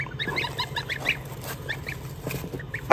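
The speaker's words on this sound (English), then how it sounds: "Starting to sound like a goose. Just a noisy goose, huh?" Geese and a baby turkey calling while huddled under a heat lamp, with repeated nasal honks and short chirping calls scattered over a steady low hum, fairly close.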